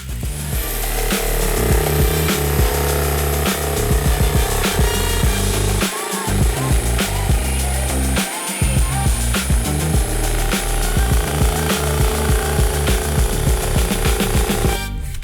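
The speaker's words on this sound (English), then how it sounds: "Okay, I'll get the jigsaw. I'm gonna go real nice and slow." A jigsaw cuts slowly through set expanding foam, a loud steady buzzing rasp with the blade's rapid chatter, briefly pausing twice before resuming.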